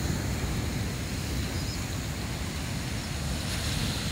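River water breaching into the Indian Ocean surf at Black Rock, Mahlongwa River mouth, with a steady broadband roar of rushing water and waves, constant and fairly loud, plus some wind buffeting the microphone.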